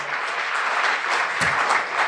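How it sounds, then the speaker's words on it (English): An audience at a Cleveland marketing summit claps in a short, even burst of applause as a CrossFit Cleveland guest is called up to the stage. "Let's give him a round of applause."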